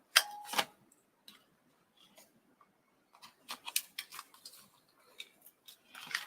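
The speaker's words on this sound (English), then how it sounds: "go in with the scissors and just trim it up" Scissors snip paper and card while a junk journal is being trimmed, with a few sharp cuts and then a loose, irregular run of clicks and rustles, close and fairly quiet.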